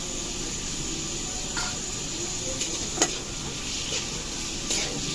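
Chopped onions with salt fry in a pan for a prawn bhuna, giving a soft, even hiss of sizzling oil with a few faint clicks of stirring.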